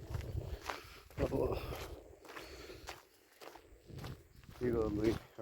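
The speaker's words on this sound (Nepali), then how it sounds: "यसरी हिँडिरहेको छु।" Footsteps walking through jungle near a village at the edge of the forest, several uneven crunching steps close by, heard under someone talking throughout.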